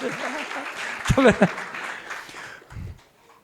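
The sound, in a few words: audience applause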